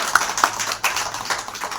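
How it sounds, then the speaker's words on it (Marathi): A small group claps to welcome a guest at a Ramabai Ambedkar birth anniversary gathering, giving a brief, light patter of hand claps at moderate distance with no voices over it. "शब्दसुमनाने टाळ्या वाजवून स्वागत करायचं"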